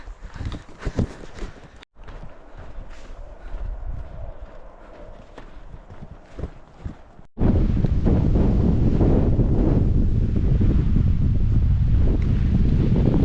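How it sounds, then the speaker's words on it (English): Strong wind in Oregon on the Pacific Crest Trail buffets the microphone throughout, turning into a loud, constant roar in the second half, with gusty rumbling before it. "I didn't realize it was going to be this windy in Oregon."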